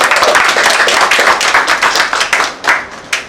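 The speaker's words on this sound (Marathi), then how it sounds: "त्यासाठी जोरदार टाळ्या यांचा सन्मान" Loud, sustained clapping from a crowd, dense and continuous with a few sharper individual claps standing out near the end.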